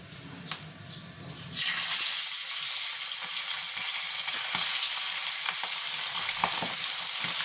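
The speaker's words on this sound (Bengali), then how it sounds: "এবার অন্যগুলো ভাজার জন্য দিয়ে দেবো।" Steady loud sizzling of pabda fish frying in hot oil, a continuous crackling hiss after a brief quieter start, with occasional clinks.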